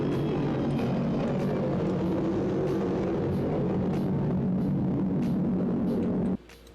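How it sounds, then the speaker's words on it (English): A Concorde in a flight simulator game makes a low-speed flyby, its engines giving a loud, steady, deep roar that holds for several seconds before cutting off abruptly near the end. "let's do a flyby at these tiny speeds"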